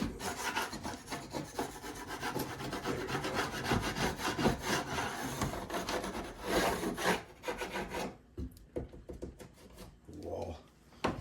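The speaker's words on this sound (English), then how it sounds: "I guess I'll scrape that up." A rubbing door being scraped, steady rasping strokes with a wood-on-wood grinding quality running for several seconds, then breaking into shorter, sparser scrapes near the end, close and moderately loud.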